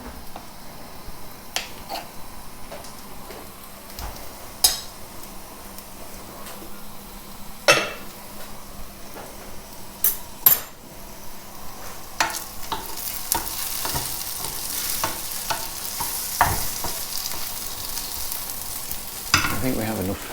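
Butter sizzling and melting in a hot pan ahead of cooking steak: a quiet, steady frying hiss with scattered sharp clicks and taps from utensils, growing a little louder and brighter toward the end.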